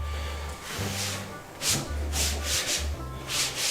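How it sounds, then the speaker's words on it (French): A kitchen countertop being wiped clean after breakfast, with repeated short rubbing strokes over a low steady hum, close by and moderately quiet. "Et je vais nettoyer le plan de travail parce que les enfants ont déjeuné ce matin."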